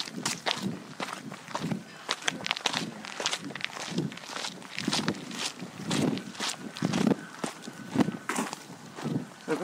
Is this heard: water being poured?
no